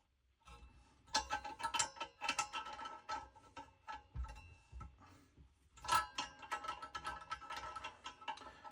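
A supplied wrench tightening a standard left-hand-thread nut onto a gas cylinder fitting for a Nurgaz 309 1.5 kW gas heater: rapid ratcheting metallic clicks in bursts, close and moderately loud, with a short pause midway.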